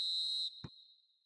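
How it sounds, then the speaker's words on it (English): A referee's whistle in a football video game: one sharp, steady high blast lasting about half a second, then a short thud and a fading ring. "Referee looks at his watch and blows his whistle."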